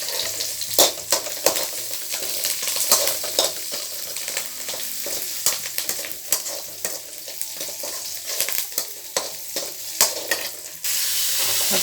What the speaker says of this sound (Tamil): நல்லா பொன்னிறமாக வறுக்கணும்.